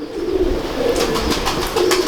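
A pigeon coos steadily and close by, low throaty rolling calls repeated over a soft background murmur.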